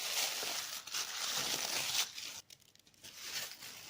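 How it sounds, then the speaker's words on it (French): Black tissue paper wrapped around a box of magnetic eyelashes crinkles and tears for several seconds up close, a dense rustle that breaks off briefly and then returns in softer crumples. "Là, nous avons un emballage avec du papier de soie noir."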